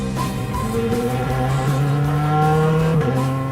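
A 1981 Volkswagen rally car that won the German Rallye championship, its engine heard from outside as a loud, steady revving drone with rising and shifting pitch, continuous and close throughout.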